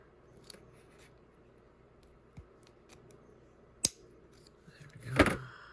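Nippers cut the bumper off a Hot Wheels 64 Impala lowrider chassis with a few faint clicks, one sharp snap and a louder final crunch near the end, close and otherwise quiet.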